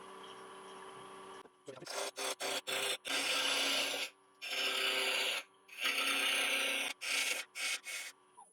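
A ball gouge cuts into a turning wooden bowl on a lathe, loud rasping scrapes in repeated bursts of varying length separated by short pauses, over a steady motor hum.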